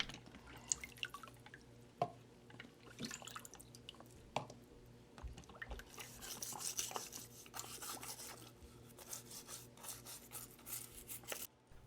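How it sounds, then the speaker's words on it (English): A grill on a 1977 Mighty Tonka dump truck is scrubbed with water, giving faint, close, intermittent rubbing strokes and small drips that grow busier partway through. "Scrubbing the grill,"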